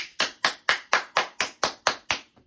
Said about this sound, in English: clap it up for yourself